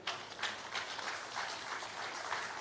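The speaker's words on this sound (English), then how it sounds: "It's a round of applause for him." An audience at a real estate industry event breaks into steady applause, a dense wash of many hands clapping at moderate volume with no voices over it.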